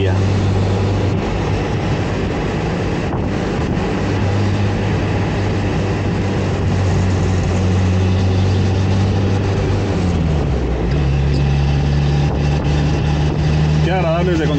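A 1963 or 1968 Renault 8 Caravelle engine drones steadily at low pitch while the car is driven through curves, its tone shifting slightly near the end, with road and cabin noise throughout and someone talking over it.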